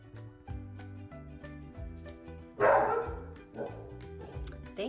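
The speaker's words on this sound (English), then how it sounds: "that was my dog, Rocco, by the way." A pet dog barks once loudly nearby partway through, followed by a softer whimpering sound, heard over quiet background music.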